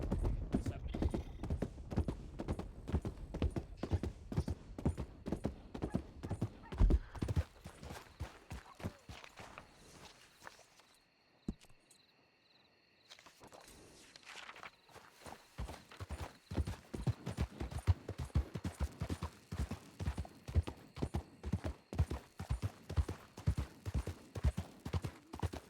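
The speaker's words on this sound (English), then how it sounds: "Horses." Horse hooves clip-clop steadily in Red Dead Redemption 2 roleplay, a close, rhythmic trot that pauses briefly midway before resuming at a similar pace.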